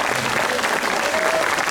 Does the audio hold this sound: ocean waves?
no